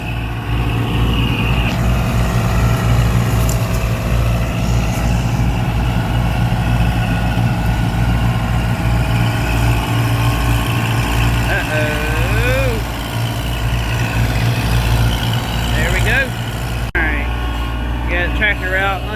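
A second-generation Ram truck works to pull a stuck Kubota tractor free, its engine idling and rumbling steadily at close range throughout while people talk over it.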